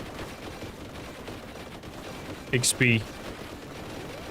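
Gunfire in Warhammer 40,000: Boltgun, a short sharp burst of two or three loud bolter shots over steady game background noise, with a player speaking briefly.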